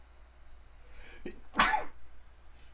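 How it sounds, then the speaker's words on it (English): A single sharp sneeze bursts out after a brief sharp intake of breath, close and fairly loud, with quiet room tone before and after. "One second, I'm going to sneeze."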